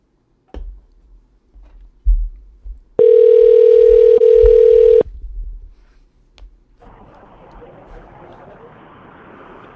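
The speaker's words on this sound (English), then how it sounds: "Nobody wants to answer the phone today." An unanswered outgoing telephone call: a couple of faint clicks, then a loud steady ringback tone for about two seconds, followed by a quieter hissy line as the call rolls over.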